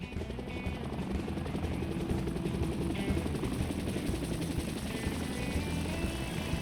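A Hendrick team helicopter drones steadily with a dense, rumbling rotor noise, loud and continuous throughout with no voices.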